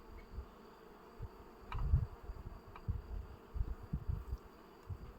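Honeybees from a first swarm buzz close by in an apiary, a low, uneven droning hum that swells and fades across the stretch with no voices.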